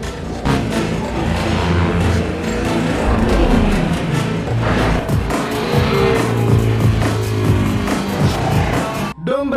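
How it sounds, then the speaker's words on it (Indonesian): Car speeding off in a film chase scene: a loud roaring engine and rushing tire noise fill the scene, with dramatic scoring mixed in and a sudden cut at the end. "Connor segera tancap gas untuk menangkap pelakunya, disusul Dom menggunakan mobil kudanya."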